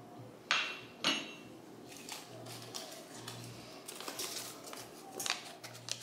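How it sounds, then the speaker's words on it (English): Mashed potatoes are mixed with milk in a pot, with a few sharp metal clinks of the utensil against the pot followed by softer scraping and tapping, close and fairly quiet. "Mix them up real good."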